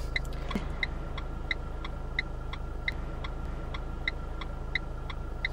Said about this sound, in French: J'ai un véhicule en approche derrière